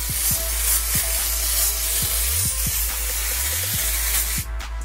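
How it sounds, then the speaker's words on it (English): Dry shampoo sprays onto a wig in a loud, continuous close-up hiss that runs almost unbroken for several seconds, with faint low thumps underneath and a short pause near the end. "That's nothing that some dry shampoo can't fix."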